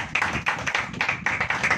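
A church congregation claps hands together during a sermon, a rhythmic run of loud, closely spaced unison claps.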